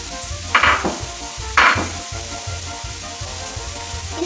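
Capsicum and spring onions fry over high flame in a kadai, a close, continuous sizzle broken by two sharp hissing bursts as the vegetables are stirred.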